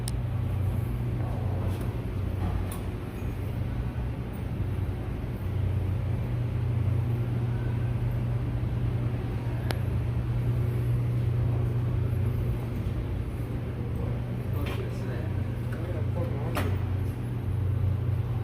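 A stock-exhaust 2018 Dodge Charger R/T with the 5.7L Hemi V8 idles with a steady low rumble. It sounds fairly quiet and even, with faint handling noises over it.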